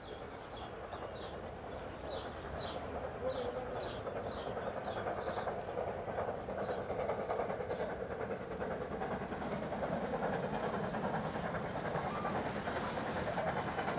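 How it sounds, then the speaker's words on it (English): Steam locomotive hauling a train on a British Rail line, a continuous rumbling roll of wheels and carriages with faint rhythmic clicks, heard at a moderate distance with no voices. "steam under BR heads home for the very last time"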